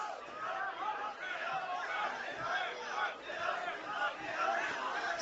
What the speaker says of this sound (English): Sideline starting to cheer on their teammates.